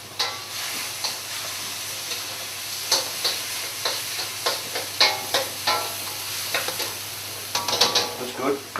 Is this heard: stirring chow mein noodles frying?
yes